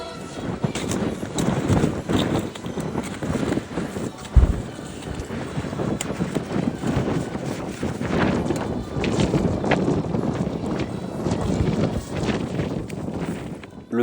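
Strong wind on Mount Elbrus, Russia, buffets the microphone in continuous gusty rumbles, loud and close, with no clear voices.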